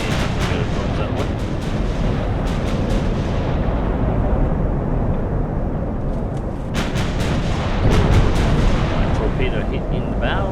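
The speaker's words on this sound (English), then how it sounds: "Torpedo hit in the bow." Dense naval battle noise in Ultimate Admiral: Dreadnoughts, with a torpedo hit and heavy gunfire rumbling continuously, punctuated by sharp booming impacts, loud and sustained throughout.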